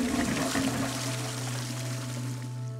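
A toilet flushes with a loud, continuous rush and swirl of water, steady throughout, with a low hum running underneath and no voices.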